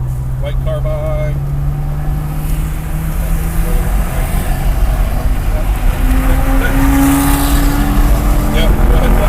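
Cars run a session on the Heartland Park race track with steady loud engine drone and rising, shifting engine tones, while an instructor talks over the noise.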